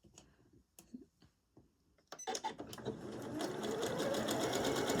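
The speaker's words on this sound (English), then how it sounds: "then we're gonna go ahead and sew" A sewing machine stitches fabric for a faux wrap top: a few soft clicks and taps while the fabric is set under the presser foot, then the motor starts and runs in a steady, fast, close-up whir of needle strikes.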